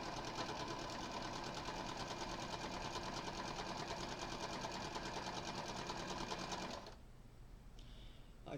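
A home sewing machine runs steadily at a fast, even stitching rhythm, close and continuous, before stopping abruptly near the end, leaving quiet room noise.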